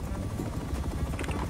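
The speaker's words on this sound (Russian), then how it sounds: "Ой, да, это вертолет" A helicopter in the video game Rust, its rapid rotor chop thudding steadily through a short burst, loud and close.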